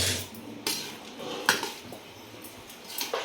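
Boondi ladoo mixture is stirred in a metal pot, the utensil scraping and knocking against the sides in irregular clinks over soft background noise, with no voices.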